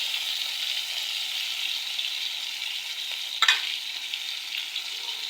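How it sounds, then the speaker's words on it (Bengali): Taro stems cooking with fish in a pan produce a continuous, even hiss of frying oil, close and steady throughout, with one brief clatter of a utensil partway through. "মাছের সাথে এখানে কচুর ছড়ি রানতেছি।"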